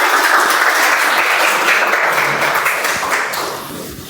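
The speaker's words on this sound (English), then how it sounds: "Huge round of applause, guys." Loud, steady applause from an audience at a Toastmasters club meeting, sustained clapping that fades gradually toward the end with no talk over it.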